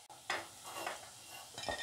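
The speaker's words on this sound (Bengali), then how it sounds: "এই ভাজাটা নিজে বুঝে উল্টিয়ে পাল্টিয়ে 2-3 বার করে দিতে হবে" Aloo peyaj pakora fritters sizzle in oil while being turned, with three short scraping bursts from a utensil over a continuous close hiss.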